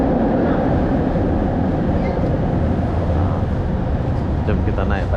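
An underground LRT light rail train in a Malaysian station rumbles loudly and continuously, a heavy low roar with steady rail noise and a faint higher squeal toward the end, no speech.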